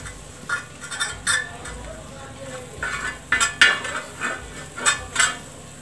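A spoon clinks and scrapes against a pan in short bursts while Kashmiri red chili is stirred into pav bhaji, close up, with quiet background noise.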